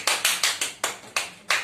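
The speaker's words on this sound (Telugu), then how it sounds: "అందరు క్లాప్స్ కొట్టండి" A small group claps for a game's winner, giving about seven or eight sharp, evenly spaced claps in quick succession, close and with no talking.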